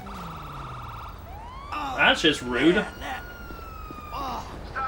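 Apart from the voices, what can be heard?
police car siren in GTA 5 video game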